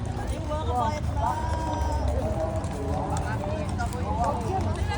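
Horses' hooves clip-clop at a walk on a trail ride in Baguio City, a steady close patter beneath nearly continuous talking and background chatter.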